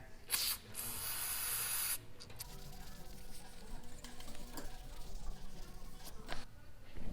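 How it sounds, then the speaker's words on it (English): Brake cleaner sprays in a loud burst onto a flywheel for a 3000GT VR4 with a 6G72 twin-turbo engine, a long hiss that cuts off, then quieter wiping and handling sounds in a garage. "I'm just going to wipe the whole thing down with some brake cleaner"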